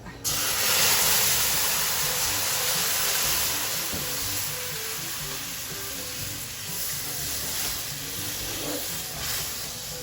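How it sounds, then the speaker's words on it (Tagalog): Thick coconut cream is poured into a hot pan of burnt, deep-brown sugar while cooking sinukmani (biko), giving a loud, steady sizzling hiss that starts abruptly and continues for the full ten seconds with no talk. "Bubuhos ko ng mga kadilag yung kakang gata."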